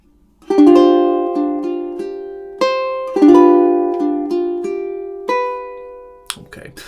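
A ukulele plays two measures of a pretty three-chord progression, plucked chords ringing out with long sustain, four or five distinct strums spaced across the passage, close and clear, ending with a brief muted scrape.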